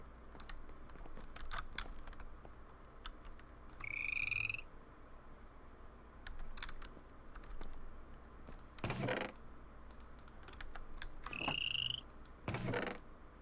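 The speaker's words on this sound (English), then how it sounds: "I'm gonna have to kill that frog." Two separate croaks from a frog in a Minecraft-style block game, spaced several seconds apart over a steady low ambient bed with scattered clicks and taps, no voices.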